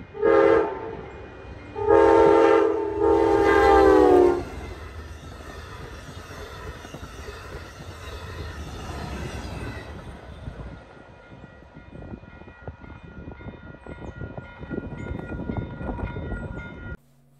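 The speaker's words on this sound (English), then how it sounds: "First train of the day is Amtrak down Eastern 693 with P42 DC 103 leading and 114" Amtrak passenger train led by P42DC locomotive 103 with a second P42DC trailing, sounding two loud horn blasts near the start, then a steady rumbling pass of rail cars that fades gradually.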